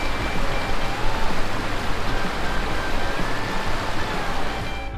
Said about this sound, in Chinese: 走在这个步道，听到这个流水声，真的好疗愈哦。